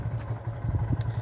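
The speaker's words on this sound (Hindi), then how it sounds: "यहाँ पर बाइक सब लोग जा रहे हैं धीरे धीरे।" Motorcycles roll slowly across a pontoon bridge of floating pipes over the Rapti river, their low engine hum steady with light clattering from the bridge deck, close by and without talk.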